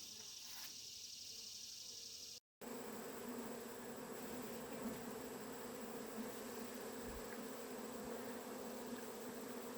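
Honey bees from a weak but still living colony buzz around an Apimaye hive during installation outdoors. A faint, continuous droning hum lasts throughout, broken only by a brief dropout near the start.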